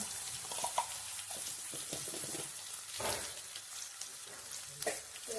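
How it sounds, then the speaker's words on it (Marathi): Hyacinth bean (vaal) flesh usal, seasoned with turmeric and salt, being stirred in a pan, with soft sizzling and scraping stir strokes at close range, several louder clinks and scrapes standing out, no talk. "आपण या सगळ्यांना ढवळून घ्यायचं. यांना ढवळून घेऊया."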